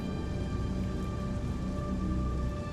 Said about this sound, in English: Oh, I hear it raining, Ferk.